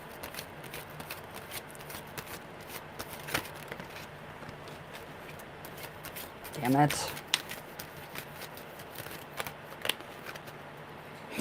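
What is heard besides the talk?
shuffling tarot cards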